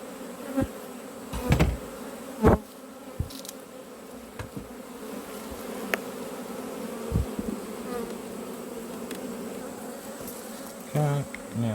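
Honey bees buzz in a dense, continuous drone around an open hive during beekeeping work, with occasional closer bees passing and a few sharp knocks and clicks from handling equipment.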